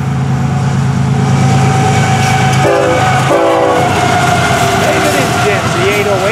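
A freight train rumbles steadily nearby with a low droning diesel engine, a horn sounding twice in short blasts partway through, over constant track noise.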